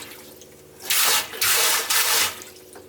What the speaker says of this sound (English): There's your hot water.